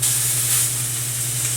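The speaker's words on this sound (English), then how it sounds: "take this nice side of the steak and we're going to drop it in there" A filet steak sears in a smoking-hot pan on a gas stove, giving a steady, loud, close sizzle and hiss with a low hum underneath and no talking.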